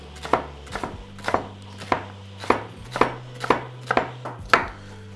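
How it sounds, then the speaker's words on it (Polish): A knife chops leek on a cutting board in a steady, even rhythm of about two crisp close strokes per second, with no talking. "Por najpierw musimy posiekać i wypłukać w wodzie."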